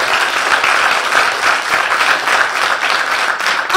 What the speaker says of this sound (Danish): Skal vi ikke klappe overhovedet af dem i aften?